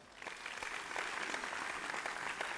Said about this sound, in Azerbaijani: Gəlin özümüzü bir gürültülü alqışlayaq